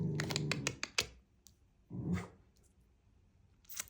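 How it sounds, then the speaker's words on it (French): A small dog indoors barks after spotting another dog through the window, giving a quick burst of sharp barks, then a lone bark after a pause, all faint and somewhat distant. "C'est petit Dwighty qui a vu un toutou à la fenêtre"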